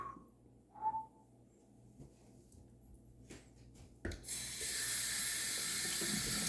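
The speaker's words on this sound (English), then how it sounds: "Rinse the alum off." Tap water runs steadily into a bathroom sink as a face is rinsed after shaving, starting partway through and continuing loud and close after a quieter stretch with faint splashes.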